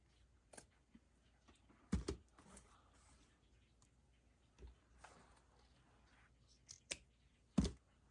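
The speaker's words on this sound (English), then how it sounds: "So we want to trim it up just a little bit." Scissors snip the stub off a craft carrot for a DIY gnome Easter bunny made from dollar store supplies, giving a few sharp, close clicks spread apart in an otherwise quiet room.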